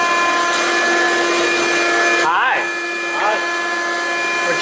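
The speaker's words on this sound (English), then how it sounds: "Vacuum it." A vacuum cleaner sucks up soot after a crash, a loud, steady whine with a brief dip and pitch sweep partway through, with voices speaking over it.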